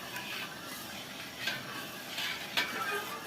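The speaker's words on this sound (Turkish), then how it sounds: "Karıştıra karıştıra eritmemiz lazım." Sugar and lemon juice are stirred in a pot for fig jam syrup, a soft bubbling hiss with a few light spoon scrapes and taps against the pot.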